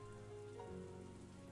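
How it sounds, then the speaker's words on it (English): An ice-cold drizzle falls in a steady, soft patter throughout, with a sustained musical drone underneath in a visual novel game scene. "Surrounded by an ice-cold drizzle that had started falling at some point, Maria cried quietly."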